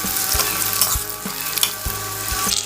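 Split drumsticks and green chillies are stirred into frying onions in a pan for a loud, steady sizzle, punctuated by regular clacks and scrapes of a spoon against the pan, with no voices.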